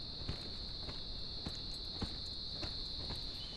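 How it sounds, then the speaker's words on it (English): Crickets in a nighttime game world keep up a steady high, thin chirring that never pauses, with soft irregular ticks and light pattering underneath, even and continuous at a moderate distance, and no voices. "We want to have crickets at night as you come through."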